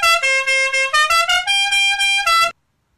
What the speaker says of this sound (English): you could go online and buy yourself any old 12-volt horn. It could sound like this.